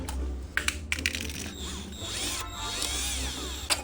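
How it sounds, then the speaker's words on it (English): Power drill working a broken bolt, with short whirring bursts and rattling mechanical clicks followed by a longer, rising and falling whine as the bit spins, close and fairly loud. "So time to drill"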